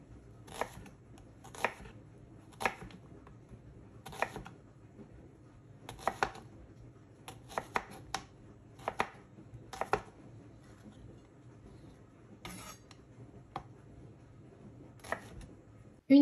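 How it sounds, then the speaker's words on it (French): Knife slicing an onion and brown mushrooms on a cutting board, a steady series of crisp, close chops spaced about a second apart, quiet and without talk. "j'ai également pris un oignon et des champignons bruns que je viens couper en lamelles"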